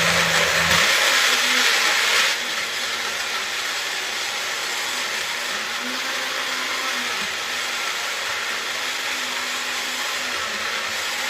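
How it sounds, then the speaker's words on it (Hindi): Mixer grinder blending tomato chutney: a bright, loud whirring burst for about two seconds, then a lower, steady motor hum that runs on without talk. "बस मैं अब इसको मिक्सर में जो है चला लूँगी, चटनी बना लूँगी इसकी"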